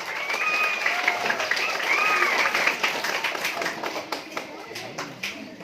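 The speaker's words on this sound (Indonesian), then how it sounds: "Tepuk tangan dulu anak-anak." Elementary schoolchildren at an Indonesian school religious gathering clap together on request; a burst of crowded clapping that thins into scattered claps, with shouting young voices over it early on.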